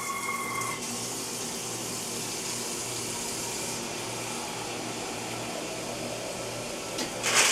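Tap water runs steadily into a pot being filled for spaghetti, a continuous loud rushing stream that stops near the end with a short clatter.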